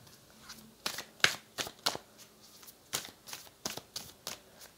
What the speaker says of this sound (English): I want to pull one more card for my singles.